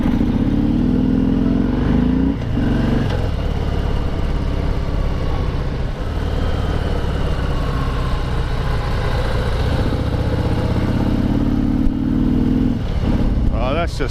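A new Harley-Davidson with rear bags, ridden while lane splitting, holds a steady, loud low engine rumble under wind noise. Someone talks over it throughout.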